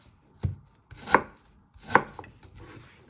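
Knife chopping fresh ginger on a cutting board, three distinct sharp chops spaced about a second apart, close and alone with no talk.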